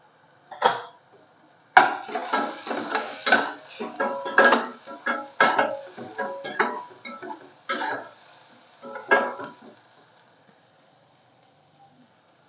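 Masala with a little turmeric sautéed in a pan on low heat for a Malvani dry chicken dish, heard as a run of irregular scraping, sizzling and stirring bursts close by, ending in near quiet.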